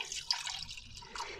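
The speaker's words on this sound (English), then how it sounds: "we're going to go ahead and measure out some water" Hydrosol liquid measured out and poured, with soft dripping and trickling water sounds running through, fairly quiet and close, with a small splash near the start and no talking.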